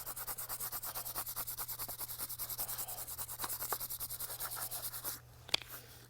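A graphic stencil is burnished onto a concrete surface with quick, even rubbing strokes, a faint rhythmic scratching repeated many times before a brief pause and a small tap.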